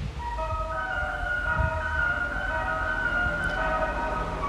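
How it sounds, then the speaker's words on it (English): An ice cream van chime plays outside at a moderate distance, a continuous tinkling melody of sustained tones with faint low background rumble and no talking. "Perfect timing for the ice cream van to come out while we're mid live stream"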